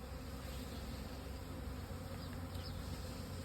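Honey bees swarm around a beehive on a bee farm in Madhya Pradesh, a dense, continuous buzzing drone up close, steady and unbroken throughout.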